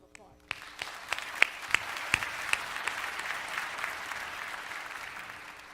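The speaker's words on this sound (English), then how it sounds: "We owe you one more round of applause." Applause at a university commencement ceremony starts after a brief pause and builds into a steady crowd clapping, with a few sharp individual claps standing out early on.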